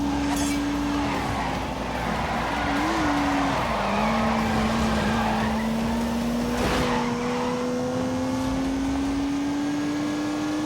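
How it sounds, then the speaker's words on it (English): A car with a turbocharged 3-litre straight-six engine making 365 horsepower accelerates hard, its loud, steady engine note climbing and dipping with gear changes, recorded close up with constant road noise. "unleashed 365 rampaging horsepowers from the turbocharged 3-litre straight 6"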